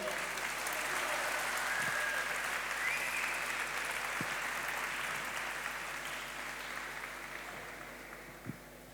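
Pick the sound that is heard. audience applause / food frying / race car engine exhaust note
audience applause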